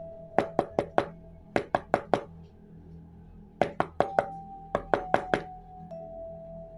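Knocking on a door late at night in an Indonesian horror story: four sharp, evenly spaced raps, a pause, another group of four, then two more sets, close and loud over a faint steady hum.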